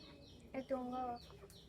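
A quarrelsome backyard hen gives a short burst of several rapid, close clucks, loud against a quiet background.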